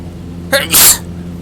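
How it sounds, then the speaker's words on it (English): A single loud, close sneeze with a short sharp burst and a breathy release, standing alone against a quiet background hum. "Did not mean to sneeze in all your ears."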